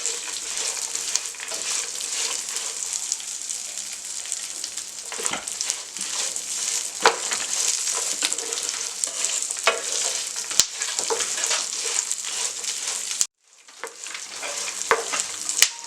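Seeds sautéing in a pan for a hemoglobin laddu give a continuous close sizzle with repeated scraping stir strokes, cutting out abruptly for a moment before resuming.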